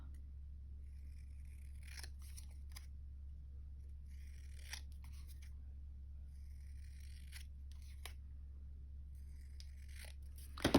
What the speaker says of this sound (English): I'm gonna cut this down a little bit.